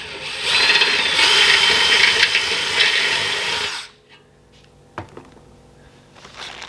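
Power drill boring out holes in metal intercooler mounting tabs to 3/8 inch for nutserts: a loud, steady high-pitched whine for about four seconds, then stopping, followed by quiet shop ambience with a brief clunk.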